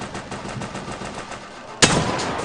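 Gunfire in the shooter game Rebels Clash, a rapid string of close shots followed by a sudden, louder burst near the end.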